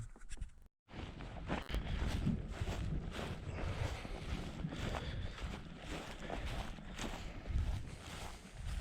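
A steady breeze buffets the microphone outdoors on the water during a fishing trip, with continuous low rumbling wind noise and gusty surges, loud and close, with no one talking.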